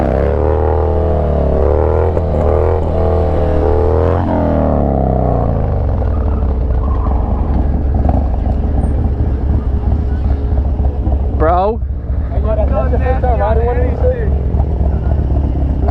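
A Harley-Davidson Dyna motorcycle engine revs loudly up close during wheelies, rising and falling in pitch over several throttle bursts before settling into a rumbling idle, with a brief sharp whine near the end.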